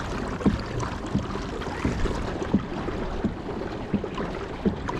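Wakes from passing pleasure boats slap against a kayak's hull in regular, evenly spaced knocks roughly every second, over a steady wash of moving water and faint wind.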